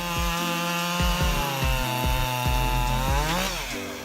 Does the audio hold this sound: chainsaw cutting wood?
yes